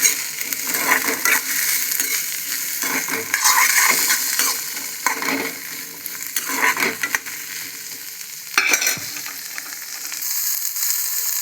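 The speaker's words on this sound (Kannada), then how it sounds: "ವಿಜಲ್ ಹೊಡಿಸ್ಕೊಂಡು ನೆನೆಸಿರೋದನ್ನು ಫ್ರೈ ಮಾಡ್ಕೊತಾ ಇದ್ದೀನಿ" Soaked food, already pressure-cooked, fries in a pan with a soft, continuous sizzle, broken by repeated close scraping and clinking stirs of a spoon against the metal.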